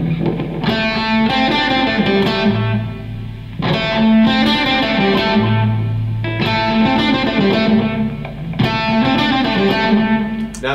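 A heavily distorted electric guitar plays a repeating riff in four loud phrases, with fast picked notes and sustained chords, no voices.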